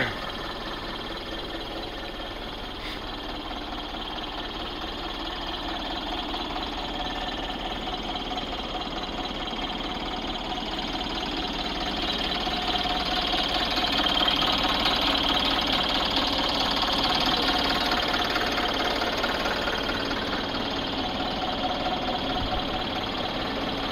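A Hyundai excavator engine runs steadily after a full overhaul on a foggy, cold worksite, a faint, even, knocking idle that stays constant throughout with no talk.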